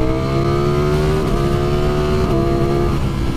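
A 2020 Ducati Streetfighter V4 motorcycle pulls hard to overtake, its V4 engine's steady loud drone climbing in pitch through quick gear changes, close and continuous throughout.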